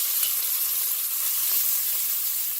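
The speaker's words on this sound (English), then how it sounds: "Once your sausage starts to brown on the other end, you want to turn your sausage and repeat the same process." Sausage browns in a hot pan with a steady, dense sizzle and faint crackles throughout, close and continuous, with no voices.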